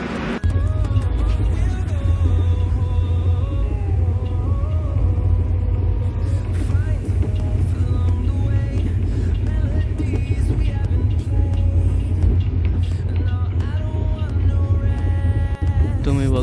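Steady loud rumble of the Hisar Duronto Express running on the track, a continuous low roar with rattling from inside the coach and faint voices in the background throughout.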